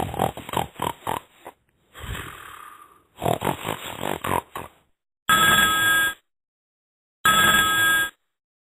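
A cartoon telephone rings twice in long, evenly spaced bursts that sound bright and steady, after a run of grunting, snorting sounds.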